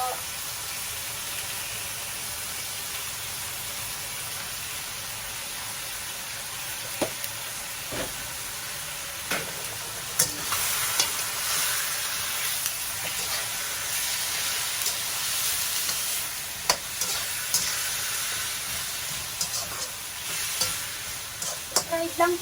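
Chicken dish frying and being stirred in a pan with chicken powder and sugar added, a steady close sizzle with scraping stir strokes and clinks throughout.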